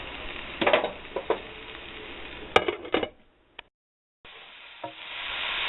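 Fried rice being stirred with vegetables in a pan, a few scraping and clattering strokes over a soft sizzle, close by, then falling briefly silent before the frying hiss returns.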